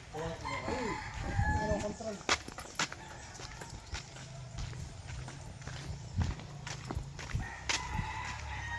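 Chickens cluck and a rooster crows outdoors in a rural Masbate province near the sea, with goats nearby, scattered knocks and clops and faint voices in the background.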